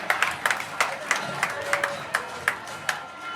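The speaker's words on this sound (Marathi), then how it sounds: "जोरदार टाळ्या प्रिन्स साठी" A crowd applauds a prize winner at a school talent hunt prize distribution, scattered individual claps sounding in a loose rhythm, moderately close and fairly thin.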